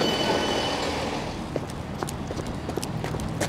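A train pulling into Portway Park and Ride station in Bristol, with a rumbling carriage interior, rhythmic wheel clicks and brief squeals over the tracks as it slows.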